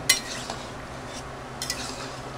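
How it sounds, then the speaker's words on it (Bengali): Jackfruit being stirred through a spiced curry gravy in a pot, with a few light scrapes and clinks of a spoon against the pan over a quiet background, no talking. "এইবার আমি আস্তে আস্তে করে মশলার সঙ্গে, মশলার ঝোলের সঙ্গে ইঁচড় আমি নাড়িয়ে চাড়িয়ে নেব।"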